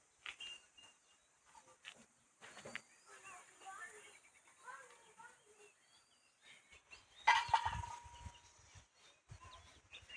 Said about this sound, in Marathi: कोंबडी आहे